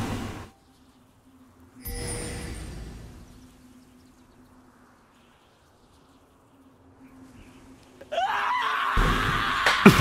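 A stream-redeemed scream sound clip erupts loud and shrill near the end of a live League of Legends stream, following quiet stretches and short bursts of background noise.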